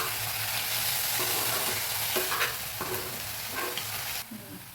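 Night jasmine flowers frying in a pan, a steady close sizzle broken by several spatula scrapes and stirring sounds, the hiss easing slightly at the end.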